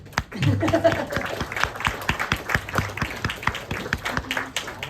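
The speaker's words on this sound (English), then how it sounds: "give an applause for Miss Aimette" Clapping from a Q&A audience after a film screening in Chatham, New Jersey, crisp individual claps at a moderate pace, with a voice briefly at the start and faint chuckles mixed in.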